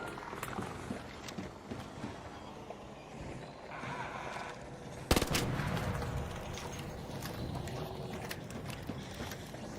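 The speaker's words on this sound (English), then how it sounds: "Those are shots near me." Gunshots near the player in the Arc Raiders video game, scattered cracks and a sharper close report midway, heard against a steady noisy ambient background.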